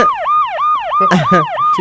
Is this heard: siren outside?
yes